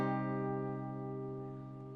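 An acoustic guitar minor chord, played by lifting the middle finger off the major shape, is strummed once at the start and rings out alone, slowly decaying over two seconds.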